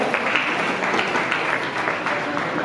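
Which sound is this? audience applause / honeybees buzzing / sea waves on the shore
audience applause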